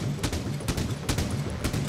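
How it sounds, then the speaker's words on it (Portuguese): Enemy gunfire rattles in the video game The Division, rapid bursts of close, loud shots in an uneven rhythm, several cracks every half second. "o cara atirando em mim"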